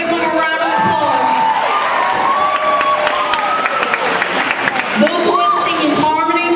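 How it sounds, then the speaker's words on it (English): A school talent show audience at St. Clement of Rome applauds and cheers: dense, sustained clapping with whoops and children's shouts throughout, loud and close, with voices rising over the crowd. "Let's give them a round of applause."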